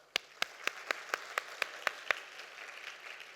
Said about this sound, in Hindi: आपके लिए मैं ताली बजा रहा हूं।